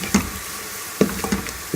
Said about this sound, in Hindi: एक से 2 मिनट के लिए हम फिर लहसुन को अच्छी तरह प्याज के अंदर भून लेंगे।